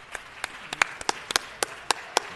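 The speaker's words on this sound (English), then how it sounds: "Could we please give them a round of applause?" Scattered, sparse hand claps from a small group at a city council meeting for Linda Morgan and the Living Jazz Legends, roughly a dozen distinct claps spaced irregularly over a quiet room.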